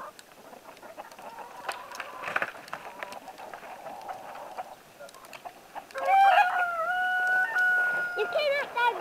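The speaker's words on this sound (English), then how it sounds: "I'm going to give them a little bit of feed inside the chicken coop first." Chickens cluck inside a chicken coop at feeding time, starting quietly amid scattered rustling and then rising into louder, close-up clucking and squawks toward the end.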